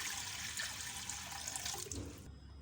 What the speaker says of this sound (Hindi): 2 गिलास पानी डाल रही हूँ।